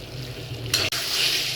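Qurbani meat fries in a pan with a dense close sizzle, a brief stirring scrape midway and a momentary dropout before the hiss continues.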